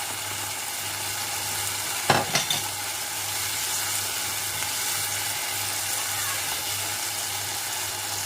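A frying vegan curry with garam masala, whole cumin and red chilli powder being stirred in, a steady sizzle with a pair of sharp spoon knocks against the pan early on, then continuous bubbling.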